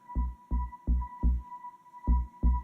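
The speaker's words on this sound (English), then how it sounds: "I have a kick drum, kind of like a bass kick drum on track 1 that sounds like this." Six deep electronic bass kick drum thumps from an AKAI Force hit in a steady rhythm over a faint constant tone, punchy and close, with no voices.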